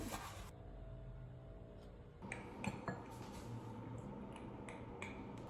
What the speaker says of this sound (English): You wanna watch me do my dishes?